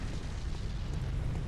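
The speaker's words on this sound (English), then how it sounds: "It shoots a fucking cannon?!" A cannon blast in the Bloodborne video game gives a dense, sustained low boom, loud and rumbling throughout, with no clear separate shots.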